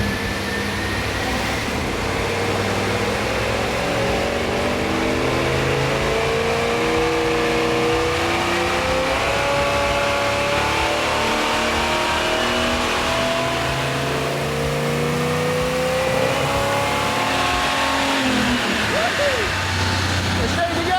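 An old Chevy truck fitted with race-car suspension pulls away, its mid-pitched engine revving steadily and rising as it drives off, loud and continuous for the whole stretch with a shift near the end.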